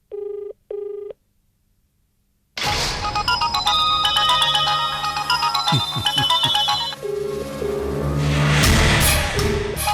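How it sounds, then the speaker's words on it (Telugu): A phone ringtone plays loud and close: two short beeps, a pause, then a bright looping electronic melody that carries on steadily to the end. "ఇది రింగ్ అవుతుంది."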